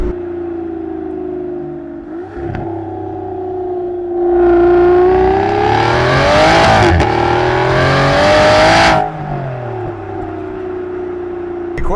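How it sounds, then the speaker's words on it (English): Aston Martin Vanquish Zagato Shooting Brake V12 in sport mode, heard from inside as the engine drone swells into a loud burst of revs and falls back as the gearbox downshifts, with no talk over it. "Let's see how responsive the downshifts are."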